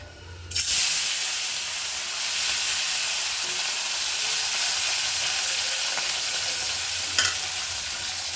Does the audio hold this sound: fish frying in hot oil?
yes